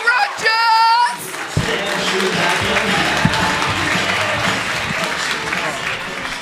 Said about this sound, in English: start the applause and cheer in